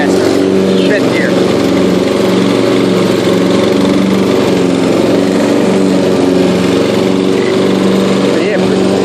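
Yard King riding lawn mower engine running steadily in fifth gear, a loud, constant droning hum with a buzzing high edge, close by and unbroken throughout.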